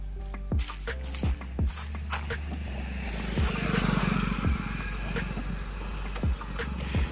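A Bajaj Pulsar motorcycle engine starts and runs with its spark plug removed, giving a low, steady mechanical hum. Occasional soft knocks and clicks sit over the drone at moderate distance, with no talking.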